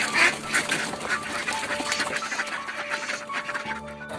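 A duck, picked out as a large one for taking home, quacks in repeated bursts over a noisy, busy outdoor background of steady clatter and chatter.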